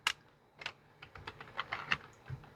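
Keys on a computer keyboard are tapped in a short irregular burst of about a dozen crisp clicks as a file name is typed into a search box, close and alone.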